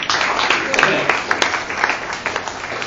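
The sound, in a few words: audience applause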